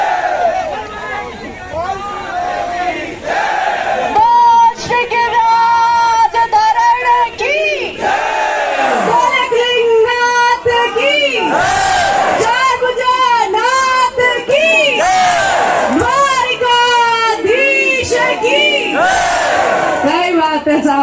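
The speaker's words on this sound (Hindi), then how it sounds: "जोरदार तालियां बजाकर स्वागत करो" A crowd at a Rajasthani-language rally at MLSU Udaipur cheers and shouts loudly and without pause, many voices raised together close by in sustained, chant-like bursts.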